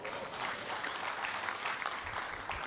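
Sustained audience applause fills a hall at a Memon community convention and AGM, steady dense clapping throughout without a break.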